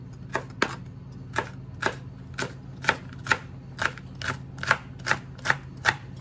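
A Salad Master knife chops through fresh garden green beans on a board, about fifteen crisp, evenly paced cuts, close and clear over a low steady hum.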